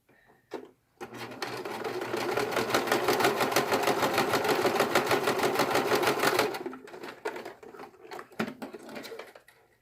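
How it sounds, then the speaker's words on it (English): A sewing machine runs a zigzag stitch on a fabric facemask, giving several seconds of rapid, even mechanical chatter up close, with quiet handling clicks before and after. "I'm going to zigzag this on."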